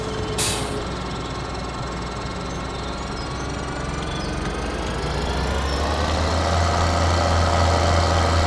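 A tractor engine in Farming Simulator 2013 drones steadily as it drives across crops. The low hum builds louder and rumbles harder in the last few seconds.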